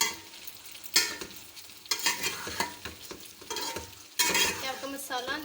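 Masala stirred and frying in a pan on low flame while making veg macaroni, with repeated scraping stir strokes over a steady sizzle, fairly close and moderately loud, no talking.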